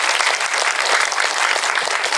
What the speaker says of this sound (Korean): 두 배우님의 좋은 연기에 다시 한번 박수를 좀 부탁드리겠습니다.